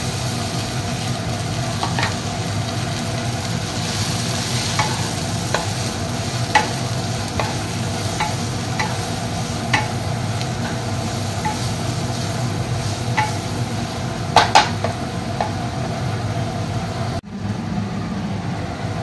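Carrots and capsicum stir-fry in a pan with a steady, close sizzle, broken by scattered scraping and clinking of a utensil stirring the vegetables.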